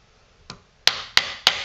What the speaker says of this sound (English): You're gonna hammer those out.